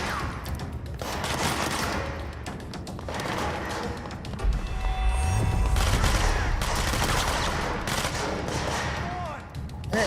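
Rapid gunfire in the Control video game, bursts of dense shots and thuds with deeper booms in the middle, loud and continuous alongside game sounds and brief voices.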